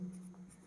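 Short, quiet strokes of writing on a board, a few scratchy marks in quick succession with no voice over them.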